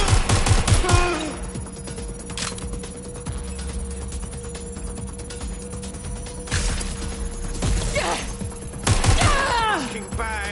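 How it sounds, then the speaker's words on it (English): Gunfire in Watch Dogs: Legion, loud clustered shots at the start, again around the middle and near the end, separated by a steady background hum, with a phone-like ringing tone mixed in. "I'm getting shot at"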